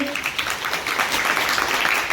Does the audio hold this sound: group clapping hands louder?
yes